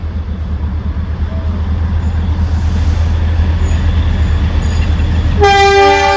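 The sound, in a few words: train running at Matheran hill station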